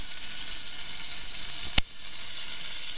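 Anchovies sizzle in a pan for seafood linguine in cream sauce, a steady close frying hiss with one short sharp crackle partway through and no voices.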